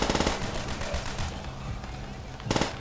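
Rapid automatic gunfire in the World War II shooter Call of Duty: World at War, loud, dense bursts that open the clip, settle into ongoing battle noise, then flare up again near the end.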